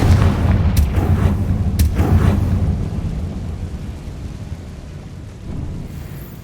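A Confringo fire spell in Hogwarts Legacy lands as a heavy blast, with two sharp cracks followed by a deep, booming rumble that slowly fades over several seconds.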